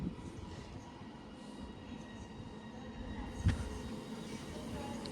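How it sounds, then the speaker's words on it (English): A train pulling out of Stockport station toward Manchester Piccadilly, a steady low rumble of wheels and traction with a single clunk partway through, heard from the platform at moderate distance. "And 323-225 is now departing for Manchester Piccadilly."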